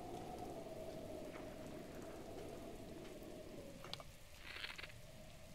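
Steady rain falls without pause in Zelda: Breath of the Wild, north of Hyrule Castle, a dense even hiss with faint brief ticks near the end and no speech.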